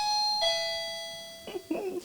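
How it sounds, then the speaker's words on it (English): An office doorbell chimes close and clear, a two-tone ding-dong whose ringing notes sustain and slowly fade, followed by talking voices that come in over the tail of the chime. "That's the doorbell, by the way."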